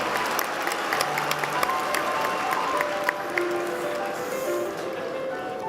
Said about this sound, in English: please rise and cheer